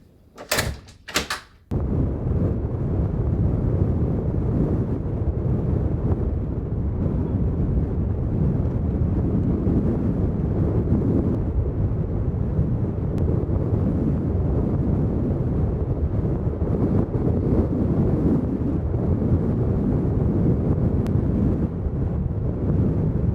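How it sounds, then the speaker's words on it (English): After a couple of sharp knocks at the start, strong wind buffets the microphone in a constant, heavy low rumble that continues steadily for the rest, outdoors on Svalbard during the polar night. "It's very windy."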